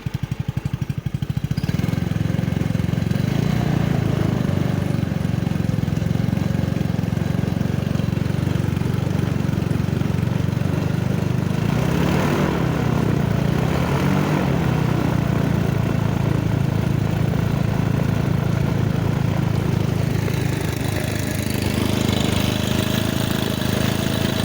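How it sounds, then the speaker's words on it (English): A Bailey V4 200cc engine on a Discus 15T trike runs steadily and close, a loud continuous rumbling drone with a brief rise in revs midway before settling back to a steady run. "Let you listen to the engine at least."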